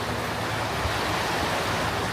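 Rushing high water running right alongside a hiking trail, a steady broadband roar of surging current with no pauses, close and loud throughout.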